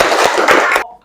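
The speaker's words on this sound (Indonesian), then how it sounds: "Oke, tepuk tangan satu kali lagi" Schoolchildren in a classroom clap together in a short burst of rhythmic hand claps, loud and close, which stops abruptly into near silence.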